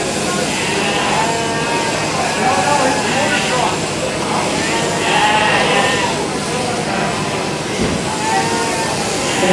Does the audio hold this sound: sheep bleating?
yes